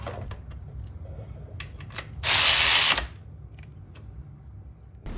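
Bolt with washers being tightened with a power tool during a Wilwood electronic e-brake install on a Ford 9-inch rear end under a 1968 Firebird. One loud, steady mechanical whir lasts about a second, with faint clicks and workshop rustle before and after.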